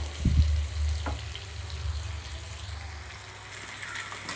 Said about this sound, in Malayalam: അപ്പം നമുക്ക് ആ മറു സൈഡും കൂടെ മുരിയുന്നവരെ ഒന്ന് വെയിറ്റ് ചെയ്യാം